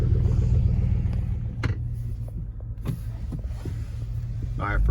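A Chevrolet Tahoe idles in the snow while warming up, a steady low rumble running the whole time with faint clicks and small shifts over it, heard up close without talk.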